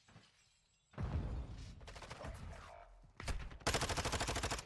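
Gunfire in the video game Modern Warfare II: a single loud shot, a burst of automatic fire, then rapid sustained machine-gun bursts close to the listener.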